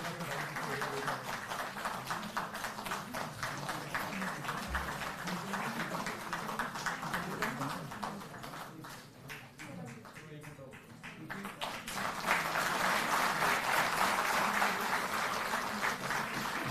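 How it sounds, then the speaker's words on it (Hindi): Audience at a Delhi government event for Delhi Jal Board workers, with scattered clapping under a voice on a loudspeaker, then applause swelling louder and fuller near the end. "जोरदार ताली बजती रहे।"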